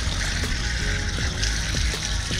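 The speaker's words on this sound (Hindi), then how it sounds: "मैं इसमें पानी डाल लेता हूँ।" Water pours and splashes onto the headlight glass of a Bajaj NS 200 motorcycle during reflector cleaning, a continuous wet trickling wash with a few small clicks and knocks.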